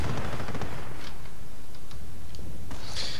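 Rapid rattling machine-gun fire and scattered gunshots in a Company of Heroes battle, a loud continuous barrage with bursts fading into sharper distant cracks over a rumbling background.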